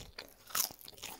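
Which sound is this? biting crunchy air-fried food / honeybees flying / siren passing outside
biting crunchy air-fried food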